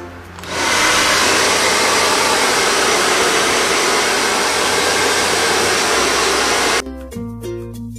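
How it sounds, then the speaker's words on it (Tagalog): A hair dryer switches on and blows loud and steady for several seconds drying hair after a Brazilian blowout treatment, then cuts off, leaving quiet music behind. "meron ako dito yung blower and idadry ko lang siya"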